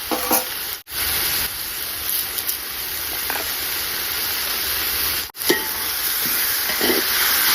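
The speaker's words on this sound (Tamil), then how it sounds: "நல்லா வதங்கட்டும்" A pan of food sautéing for cumin samba biryani hisses loudly and evenly up close, with occasional stirring clinks, and cuts out abruptly twice for a split second.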